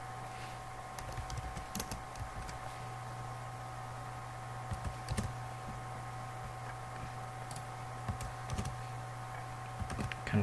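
Computer keyboard keys clatter in quick irregular bursts while a logo mockup is edited in Photoshop, with a steady electrical hum underneath and no voices.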